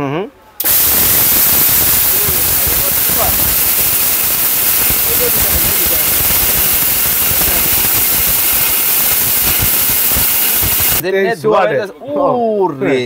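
A powerful 2300-watt steel blender grinds lentils with a loud, steady roaring whir for about ten seconds, then cuts off abruptly as a person starts talking.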